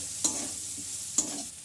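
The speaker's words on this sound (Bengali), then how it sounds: "এবার এইটাকে দিয়ে ভালো করে মিক্স করবে।" A spoon stirs a spiced chicken curry masala mix in a frying pan. It scrapes and sizzles steadily, with two brief sharp scrapes standing out, and no one speaks.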